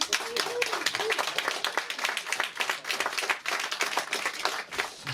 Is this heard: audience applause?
yes